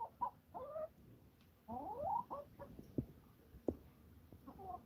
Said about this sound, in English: So we're in here and now you can see chickens.